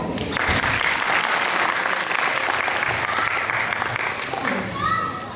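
Audience applause fills a Bengali New Year gathering of songs and stories, a dense, steady wash of clapping that carries evenly for about five seconds before easing off slightly at the end.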